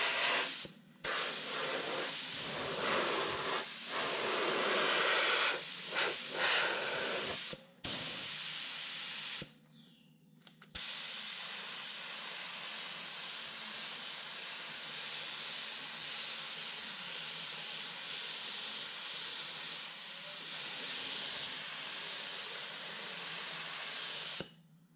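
Low-pressure spray gun coating the body of a 1935 Chevy sedan, a loud, steady airy hiss running nearly throughout, broken by a few brief stops early on before settling into one long continuous spray.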